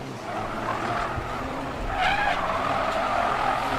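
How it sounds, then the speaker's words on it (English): Race car tyres on Hankook semi-slicks squeal and skid through a corner at the Bangsaen Grand Prix street circuit, a sustained screech with engine roar that swells louder in the second half. "listen to the amount of tyre squeal on the effects mics as these cars challenge the limits of the Hankook semi-slick"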